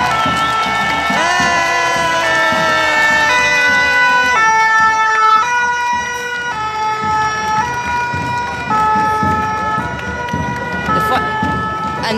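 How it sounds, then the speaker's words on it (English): Fire truck siren wailing with steady pitched tones, loud and near, while a large street crowd murmurs and cheers around it; people talk beneath the siren. "It's a fire truck coming."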